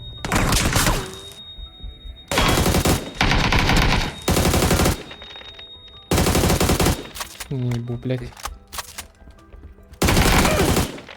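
Loud bursts of rapid automatic gunfire in PUBG come in several long volleys separated by pauses, with a voice swearing between them.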